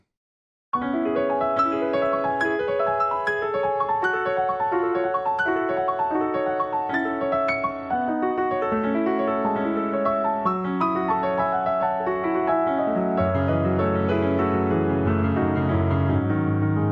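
Solo piano playing a section of Debussy's Clair de Lune, sustained arpeggiated chords and a flowing melody, close and clear, with a deeper, fuller chord passage toward the end.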